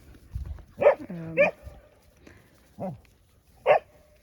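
Dogs bark in a handful of short, separate yaps and woofs, a mix of Pomeranians and bigger dogs, fairly close with quiet pauses between barks.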